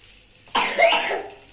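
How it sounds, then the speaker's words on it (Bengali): A child coughs once, a short, close burst right after a quiet start, fading over about a second, with no talking. "কাশি হচ্ছে"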